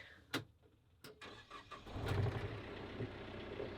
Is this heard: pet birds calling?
no